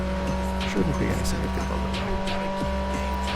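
Tires squeal in a burnout at the start of a race in a racing video game, over a steady, loud engine drone, while a voice talks over the top throughout.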